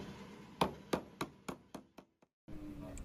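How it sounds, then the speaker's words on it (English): A paint can lid being pressed shut with a multi-tool, heard as a run of six sharp knocks that get quicker and quieter, ending in a brief hush before faint room noise returns. "And closing the paint can."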